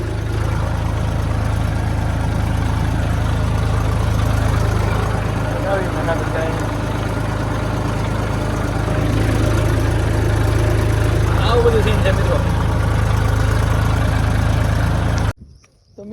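A tractor engine runs in a cotton field during fertilizer spreading, a steady low drone that continues unbroken and fairly loud, with a person talking over it.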